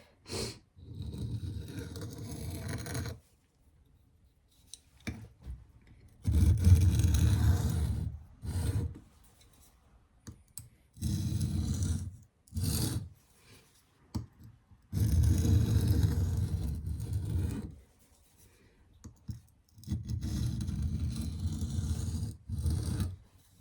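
A K390 steel knife, a Duckhead Forge Slater hardened to 64.5 HRC, has its bevel reground on a bumpy sharpening stone, giving repeated gritty rasping strokes in several steady bursts separated by short pauses.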